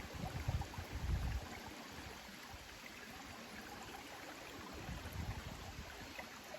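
A forest stream flows in a steady, even rush that fills the whole stretch, with a few low rumbling bumps near the start and no voices.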